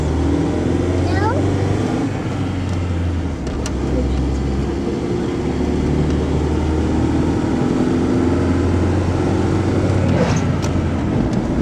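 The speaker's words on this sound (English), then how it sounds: "So let's do a little brisk acceleration, or as brisk as a 4-cylinder Ranger can be." The 4-cylinder engine of a Ford Ranger hums loudly and steadily during brisk acceleration, heard from inside the vehicle with continuous road and engine rumble.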